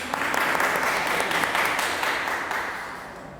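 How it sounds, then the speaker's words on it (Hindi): A class of students applauding: steady, bright, dense clapping from a roomful of people that holds strong and then tapers off slightly toward the end. "ताली बजा दो इनके लिए।"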